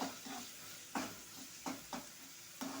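Onions being stirred and fried in a pan at home, a soft steady sizzle broken by several sharp scraping stirs of the spatula at irregular intervals, fairly quiet and close, with no voices.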